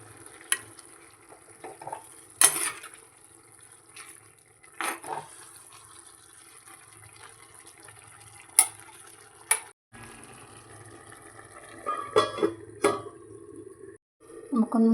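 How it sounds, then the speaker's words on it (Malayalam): Aviyal, a mixed vegetable curry, is stirred in a pot with a few sharp spoon scrapes and clinks against soft sizzling, fairly faint and close. "ഇനി ഒന്ന് നമുക്ക് ഇളക്കി കൊടുക്കാം."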